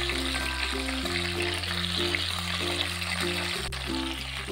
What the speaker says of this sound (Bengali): মাছটা আমি লো টু মিডিয়াম ফ্লেমে ভেজে নেব